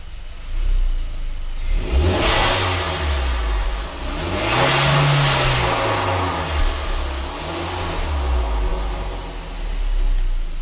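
A car engine revs under throttle in repeated swells, rising and falling in pitch over a steady idle, loud and close with no talking.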